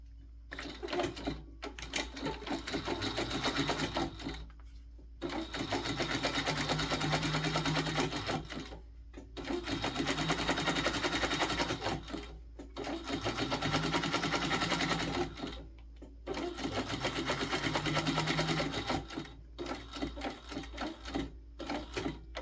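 Sewing machine top stitching a bag panel, running in four long steady bursts separated by short pauses, close and fairly loud with a humming motor and rapid needle clatter.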